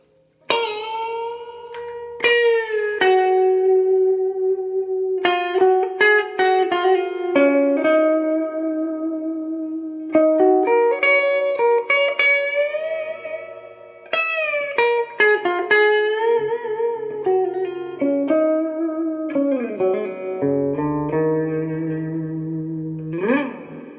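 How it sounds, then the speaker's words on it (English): A clean electric guitar through a Monoprice 15W amp plays a melodic line of ringing notes and chords, each tail washed in lush reverb, steady and fairly loud with no voices. "So that's a taste of the cleanness and some of the reverb, plush reverb."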